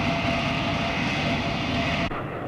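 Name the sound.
BAC 111 short-haul jet airliner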